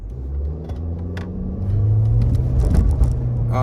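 A Nissan Kicks pulls away from a green light, its engine rising into a steady, growing drone with road rumble, heard from inside the cabin.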